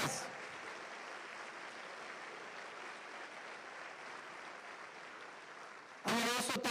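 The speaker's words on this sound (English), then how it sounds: "Please give them a big round of applause." Audience applause for school principals at a New York City schools address, a steady broad wash of clapping from a large crowd in a hall that holds evenly for about six seconds before a louder, closer burst at the end.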